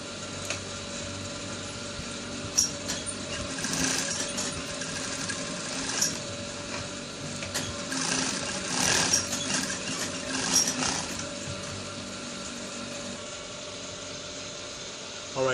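Sewing machine stitching trouser fabric, a steady close mechanical whir with rapid needle chatter that rises and eases over several seconds, with a voice speaking faintly in places.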